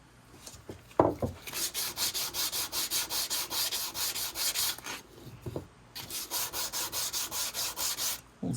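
Guitar frets being sanded with sandpaper, heard as a steady run of rhythmic back-and-forth rubbing strokes up close, pausing briefly once before the strokes resume.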